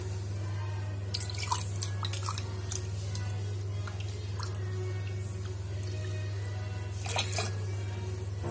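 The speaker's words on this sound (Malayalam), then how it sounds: "ആവശ്യത്തിന് വെള്ളം ഒഴിച്ച് ഇതെല്ലാം ഇതിലോട്ട് ചേർക്കും." Water is poured into a masala paste for a Trivandrum-style fish curry and mixed in, giving close, wet dripping and squishing with a couple of brighter splashy bursts over a steady low hum.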